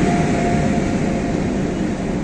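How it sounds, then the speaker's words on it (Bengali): A train hauled by a Visakhapatnam-based locomotive passes close by on the Puri route in Odisha, making a loud, dense, continuous roar that holds steady with no voices. "এই যে দেখো কোন ট্রেন যাচ্ছে, এটা এটা বিশাখাপত্তনমের ইঞ্জিন"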